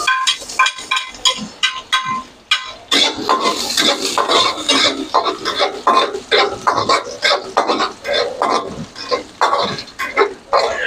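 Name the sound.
garlic added to hot pan and stirred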